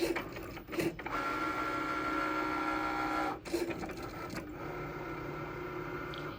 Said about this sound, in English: This is pretty thick vinyl, and so we may end up needing to cut this a second time.